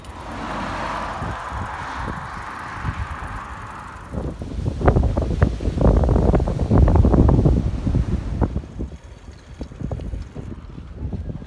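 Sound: strong wind blowing at the harbour

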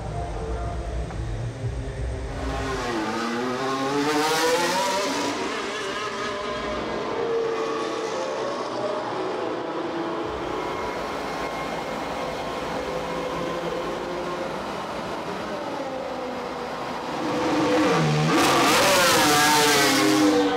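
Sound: Formula 1 race car engine running on track

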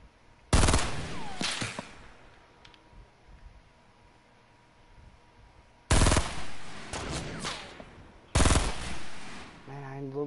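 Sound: gunfire in the video game Fortnite

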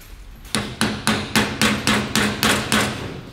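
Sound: tapping a trailer hub bearing seal in

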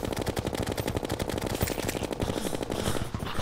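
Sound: gunfire in the Terraria video game

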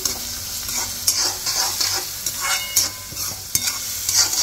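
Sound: ginger garlic paste frying in a pan

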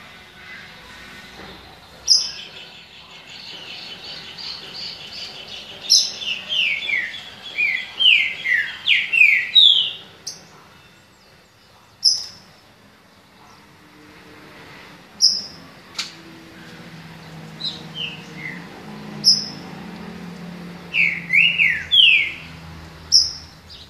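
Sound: trinca-ferro (green-winged saltator) singing

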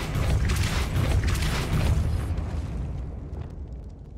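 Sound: spell casting effects in the video game Hogwarts Legacy

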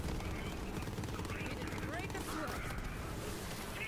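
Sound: gunfire from a gun in video game Borderlands 3

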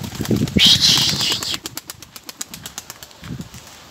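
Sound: pigeons taking off, wings flapping

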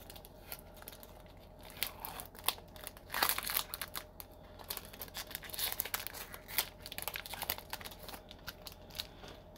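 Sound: tearing open Magic The Gathering card packs

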